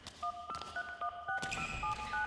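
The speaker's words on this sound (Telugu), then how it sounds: "నేను ఇప్పుడే డాడీకి వెంటనే ఫోన్ చేస్తాను." A telephone keypad is dialed, producing a quick run of paired electronic touch-tone beeps that play in separate bursts and short sequences against a faint background hum.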